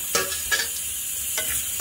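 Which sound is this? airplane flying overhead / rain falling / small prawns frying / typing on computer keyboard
small prawns frying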